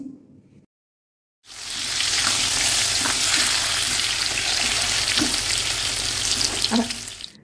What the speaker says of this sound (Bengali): এখন খুব ভালো করে আলু কুমড়োগুলোকে ভেজে নিচ্ছি।